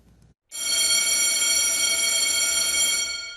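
After a brief pause, a loud electric school bell starts ringing and keeps up a continuous, harsh metallic clang, marking the first day of the school year.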